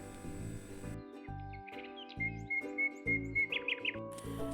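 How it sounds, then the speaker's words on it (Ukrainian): Bright, high chirping bird calls trill in short repeated bursts over a steady musical backing, fairly close and clear. "чарівний спів пташок принесла. Пташки співають"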